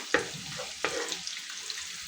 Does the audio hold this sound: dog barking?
no